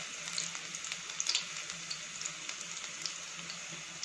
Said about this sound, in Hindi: अभी हम लहसुन को ब्राउन होने तक इसको पका लेंगे।